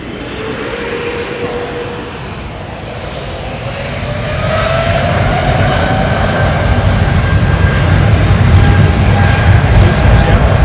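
Aircraft engines power up for takeoff at London Heathrow Airport, a loud, broad roar that swells partway through and keeps building. The thrust holds steady and close, and no voices break through.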